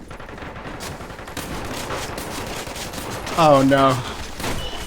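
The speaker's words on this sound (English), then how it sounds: "Man, that's that chain gun, dude." Rapid, dense gunfire rattles through a Metro Conflict match as a chain gun fires alongside other shots, with a player talking briefly over the noise.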